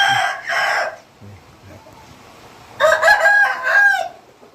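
A rooster crows close by, two calls in succession, with a short pause between; faint background noise fills the gaps.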